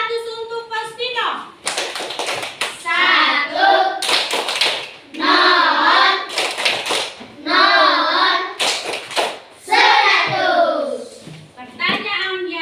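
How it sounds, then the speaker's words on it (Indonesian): Children in a Catholic religious education classroom doing a patterned clapping cheer for a classmate, bursts of loud, close, rhythmic claps mixed with kids' chanting and speech. "tepuk 100 untuk Faustino"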